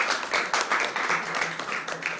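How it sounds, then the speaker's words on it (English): Applause from a small group at an Arduino intro demo session, a brief burst of hand clapping that fills the room evenly with no voices over it. "Give that man a round of applause."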